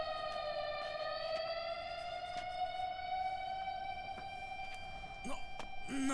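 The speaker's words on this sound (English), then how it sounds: "Sirens are bad." A wailing siren from the video game Yakuza 6 sounds steadily and fairly loud with a slowly rising pitch, joined near the end by a few brief sharp game sounds.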